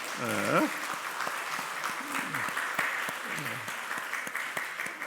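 Church congregation clapping in welcome for two returning members at a Sunday worship service, a steady broadband patter lasting throughout, with a voice speaking briefly at the start and over the clapping.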